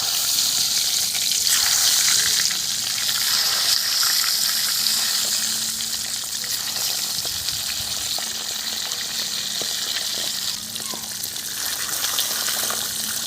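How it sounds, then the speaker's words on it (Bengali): Duck eggs frying in hot oil with turmeric give a steady, dense sizzle and crackle that runs unbroken from start to finish, close and fairly loud, with no talking. "এবারে আমি দিয়ে দেব ওই তেলের মধ্যে ডিমগুলো"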